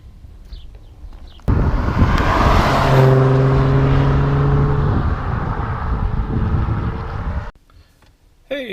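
A supercharged 2016 Jaguar F-Type with a six-speed gearbox fires up and runs loud and close, holding a steady, throaty rumble with a rising tone before cutting off near the end. No one speaks.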